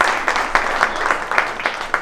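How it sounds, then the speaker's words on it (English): Applause from the audience at a CEO summit panel on early childhood: a sparse, moderate patter of clapping with a few sharper claps standing out, lasting about two seconds. "let's just give them a round of applause"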